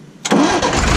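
An old Ashok Leyland vintage truck's 401 diesel engine cranks briefly and catches on the first try, jumping from quiet to a loud, steady running rumble close by.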